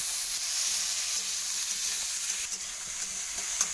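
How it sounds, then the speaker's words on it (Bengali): Eggplant pieces sizzle steadily in hot oil in a pan while being lightly stirred, a dense close-up frying hiss with occasional soft scrapes and no talk, during cooking of gourd greens with fish head. "বেগুনগুলো খুব ভাজা করবো না, হালকা করে লাড়বো"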